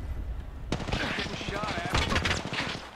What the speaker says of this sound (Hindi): अरे यहाँ से फायरिंग हो रही है, यहाँ से फायरिंग हो रही है।